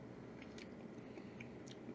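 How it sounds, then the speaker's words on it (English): Close, quiet crunching and chewing on a chilli-pickled carrot, a few crisp bites spread across two seconds with soft mouth sounds between them. "until you start chewing and you start biting into the carrot"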